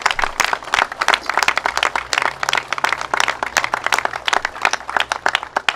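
A crowd applauds at a governor's announcement on flood resiliency, dense steady clapping from many hands filling the room, loud and continuous without talk.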